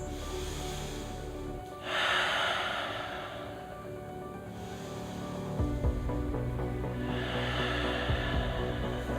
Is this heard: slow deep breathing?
yes